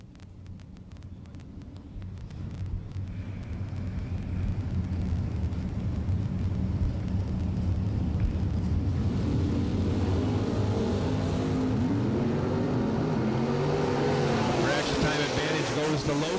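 Bracket drag race with a Camaro in the right lane: engines rumble and roar down the strip, building into a loud, rising, overlapping growl, with a race announcer talking over it.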